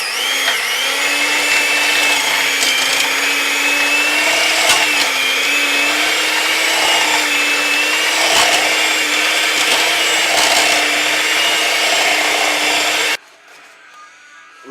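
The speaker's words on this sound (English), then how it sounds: "I will use my electric whisk and mash it up" An electric whisk mashing boiled potatoes with milk, a loud steady motor whine with grinding, shifting tone for about thirteen seconds before cutting off abruptly into near silence.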